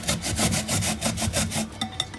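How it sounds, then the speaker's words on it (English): Daikon radish is grated on a hand grater in rapid rhythmic rasping strokes, close and steady, with a few lighter scrapes at the end. "Just go ahead and grate it."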